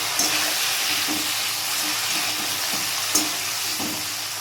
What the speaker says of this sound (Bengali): নুনটা দিয়ে আমি একটু নেড়ে চেড়ে দিচ্ছি